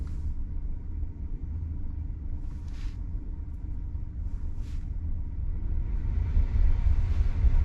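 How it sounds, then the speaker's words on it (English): The cabin climate fan of a Tesla Model 3/Y blows on high, producing a steady, loud rushing roar inside the car that swells slightly toward the end. "The fan in this car is, it's pretty powerful, and you definitely hear it"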